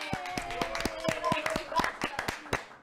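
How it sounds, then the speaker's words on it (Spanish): Handclaps in a radio studio, a dozen or so distinct claps at an uneven rhythm, close and fairly quiet, with voices talking over them. "¡Aplausos!"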